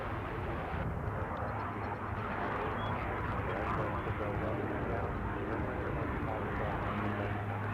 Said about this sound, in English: That's a Pilatus, PC-12.